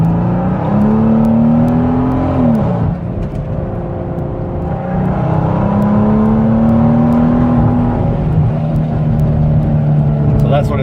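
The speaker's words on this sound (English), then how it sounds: "So that's what it sounds like, full throttle. That was about 85 miles an hour." A car engine pulling hard at full throttle up to about 85 mph on an 85 and 93 fuel mix, rising drone with a shift dip and renewed climb, loud and close from inside.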